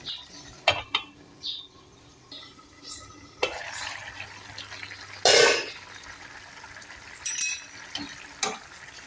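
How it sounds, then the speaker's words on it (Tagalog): Water is poured into a pan of sautéed radish and canned sardines, giving a brief splashing burst amid scattered clinks of utensils and pot in a home kitchen, with faint background sounds throughout. "Nagdagdag ako ng kalahating tubig doon sa may ano, lagay ng sardinas"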